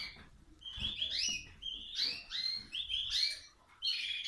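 Spanish timbrado canaries in an aviary sing in quick bursts of bright, high chirps and warbling trills, fairly close and steady, with short pauses between phrases.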